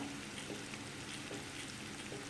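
Masala roasts in a pan with a soft, steady sizzle and faint crackles, occasional stirring scrapes, quiet and close with no voices.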